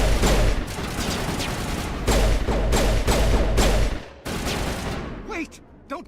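Rapid bursts of gunfire from combat in the video game Mass Effect Legendary Edition, loud and dense with booming thuds, breaking off briefly and trailing into scattered shots as a voice talks over the action.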